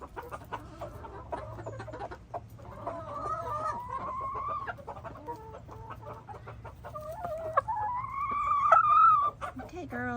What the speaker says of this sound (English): It's always fun to watch the chickens enjoy their treats.